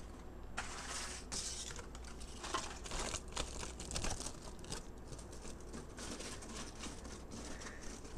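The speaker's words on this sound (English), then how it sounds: "we're going to use some of these rattier pieces of foil to divide the bottom row from the top row" Ratty pieces of aluminium foil crinkle and crackle up close in a steady, dense rustle, handled to divide rows of grain spawn bags, with no voices.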